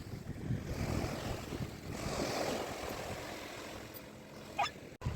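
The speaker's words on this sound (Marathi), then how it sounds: "पाण्याच्या लाटा जसं जशा पुढे यायला लागल्या" Ocean surf at Dandi Beach, Malvan washes in with a soft, rolling roar, mixed with wind buffeting the microphone, fairly faint and continuous.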